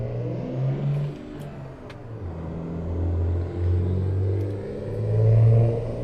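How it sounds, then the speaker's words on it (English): A truck engine in a trucking video game, driven with a manual gearbox on a hill, drones loud and steady, its low rumble swelling and bouncing against the rev limiter over several seconds with no talk. "Talk about hitting the rev limiter right there."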